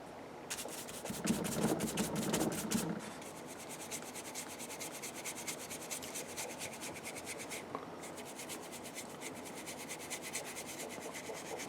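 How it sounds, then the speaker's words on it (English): Paint is dry-rubbed onto the outer brim of a hat, giving a close, continuous scratchy rubbing with rapid back-and-forth brush strokes. Strokes are heavier at first, then a steady, finer rhythm continues throughout. "This is called dry rubbing."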